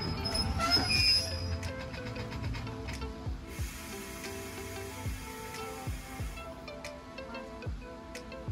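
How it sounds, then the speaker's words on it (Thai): A freight train rolls past on a Thai railway line, its wheels clacking rhythmically over rail joints with metallic squeals and a steady rumble, fairly close and continuous. "รถจาก QSY น่าจะเป็นรถสินค้าแน่ๆเลยนะครับ"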